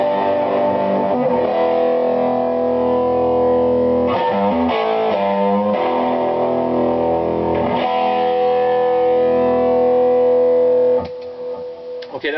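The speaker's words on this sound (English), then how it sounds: "I'm going to turn the Pugilist Distortion on. Okay, I'm turning it on now." A heavily distorted electric guitar through a Fender Pugilist distortion pedal, on the neck pickup, plays sustained, buzzing chords and riffs for several seconds, loud and saturated, then cuts off near the end.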